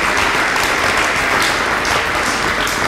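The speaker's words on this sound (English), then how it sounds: "A round of applause for architect Ayomide." Steady applause from a studio audience fills the space for a guest architect named Ayomide, dense and even throughout with no voices standing out.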